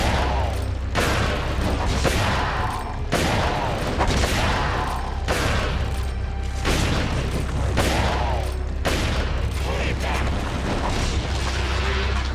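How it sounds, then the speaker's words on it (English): A shotgun fires repeatedly at a boss in Resident Evil 4, loud booming blasts about once a second over a steady low game rumble, with a bit of voice in the mix. "Let me quickly use the last of my shotgun shells on him"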